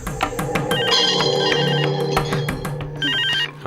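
A telephone rings loudly in an indoor drama scene, a rapid series of electronic ring pulses repeating over about three and a half seconds, with no voices.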